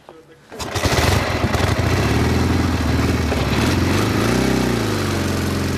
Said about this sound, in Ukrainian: Конкуренцію сучасним байкам може скласти і старенький мотоцикл.